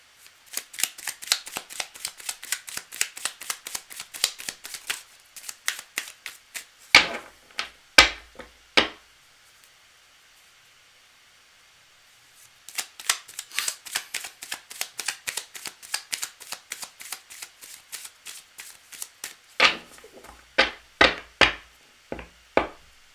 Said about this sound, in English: I'm going to shuffle again because I got distracted.